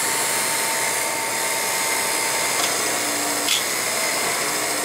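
A Revere P-90 film projector's motor runs with a steady, even whir and hum. It is moderately loud and continuous, with a couple of faint clicks and no talking.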